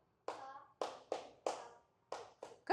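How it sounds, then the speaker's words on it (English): A person at a music theory workshop claps out a rhythm: seven crisp, close hand claps in an uneven pattern of short and longer gaps, separated by silence. "Would you like to clap that?"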